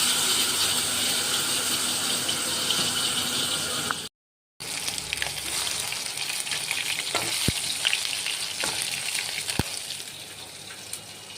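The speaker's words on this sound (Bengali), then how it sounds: "এখন ভেটকি ফ্রাই হচ্ছে।" Bhetki fish fillets coated in gram flour batter and poppy seeds frying in oil, a loud continuous sizzle with occasional sharp crackles, cut by a brief silent gap partway through, with no talking.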